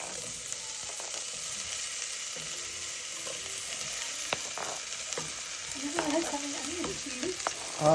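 Onions and jalapenos cook in a pot over medium-low heat with a soft, continuous sizzle, a few light utensil taps and faint voices near the end.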